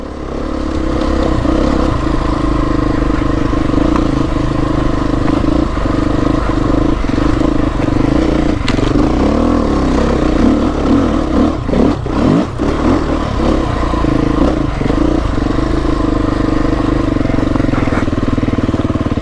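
A Beta 350 motorcycle engine lugs at low revs, a steady, loud, close-up rumble that holds throughout with slight clattering variations.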